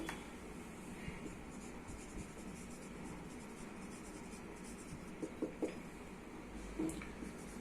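Pen writing out a maths proof on paper, a continuous soft scratching of strokes with a few sharper taps, close and quiet, with faint speech in the background.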